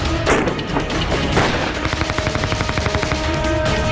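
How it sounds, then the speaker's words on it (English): Gunfire during a terrorist attack on the Entrepreneur Development Institute building in Pampore near Srinagar: loud, rapid bursts of automatic shots rattling in a fast, regular stream, with echoing booms early on. "the stillness of dawn in Pampore near Srinagar was broken by the sounds of bullets."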